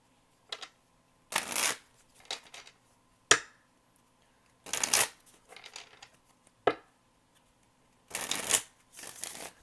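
Tarot cards being shuffled close up in short riffling bursts, several quick crisp flurries separated by pauses and small taps.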